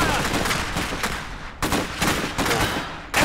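Rapid gunfire from a battle in the Iron Harvest strategy game, dense overlapping bursts of shots with several sharp louder cracks punctuating a continuous clatter.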